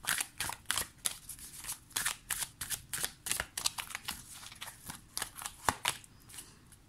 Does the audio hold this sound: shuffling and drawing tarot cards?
yes